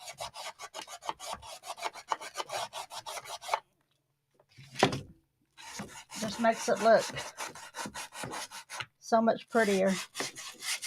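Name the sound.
sander sanding painted letters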